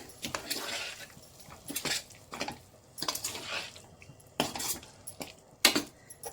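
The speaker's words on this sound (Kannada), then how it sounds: "ಈಗ ಇದನ್ನು ಕೂಡ ಚೆನ್ನಾಗಿ ಮಿಕ್ಸ್ ಮಾಡ್ಕೊಳ್ಳೋಣ" A spoon scrapes and clinks against a cooking pan while egg masala with added salt is stirred, giving repeated short bursts of close metallic scraping in an uneven rhythm.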